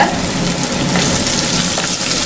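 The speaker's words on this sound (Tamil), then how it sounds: "பூண்டு குடமிளகா நல்லா வதங்கி வந்துடுச்சு." Garlic and capsicum sauté in a hot pan, a loud, dense, unbroken sizzle close up for a couple of seconds with no voices.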